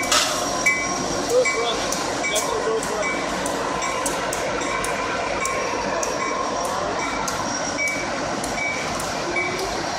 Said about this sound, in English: We got an SD40-2 coming northbound on track 2.